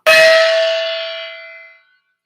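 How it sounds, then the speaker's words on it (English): A single metallic strike rings out with a bright, shimmering tone and a steady hum that slowly fades over a couple of seconds. "So here's a gong"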